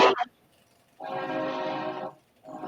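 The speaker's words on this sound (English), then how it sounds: "Damn you, train. I hear a train." A train horn sounds from a distance, one sustained, fairly faint blast lasting about a second, with the start of another at the end and a brief noise just before it.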